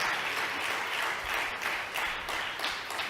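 A church congregation clapping loudly in praise, a sustained, dense burst of applause from many hands, close and even throughout with no talk over it.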